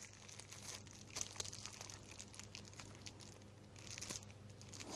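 Soft crinkling and rustling of a plastic bag being closed around a Radex dosimeter, close and quiet, with a few sharper crackles.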